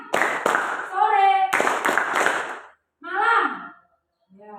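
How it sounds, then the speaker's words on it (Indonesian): Students clapping hands together in a classroom in short counted patterns, several sharp claps in quick groups, close and loud, mixed with voices calling out greetings between them. "Kalau selamat pagi tepuk tangannya 1 kali, selamat siang 2 kali, selamat sore 3 kali, selamat malam 3 tepuk tangan"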